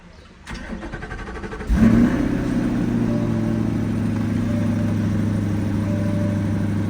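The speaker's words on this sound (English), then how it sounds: "Let me start the car." A Chevrolet Corvette C8 engine cranks briefly, then fires and settles into a loud, steady idle with a faint rising rev, close to the car.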